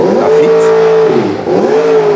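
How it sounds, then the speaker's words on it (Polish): A sports car engine revving hard at a classic car show in Como, pitch rising and falling in two loud, close sweeps. "ależ dźwięki silników, coś pięknego"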